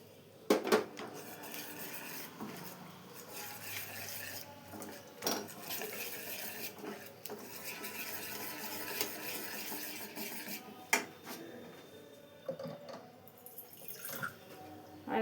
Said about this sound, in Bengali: তার মধ্যে জল দিয়ে দিচ্ছি